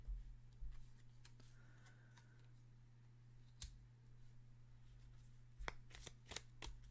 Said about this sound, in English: Let's get another card here.